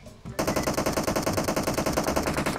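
Rapid revolver gunfire in PUBG Mobile, a fast regular string of loud, close shots that runs without pause for over two seconds after a brief quiet start.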